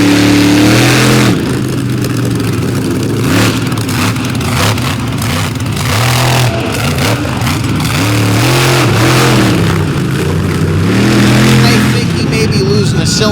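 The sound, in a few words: monster truck engine revving during drag race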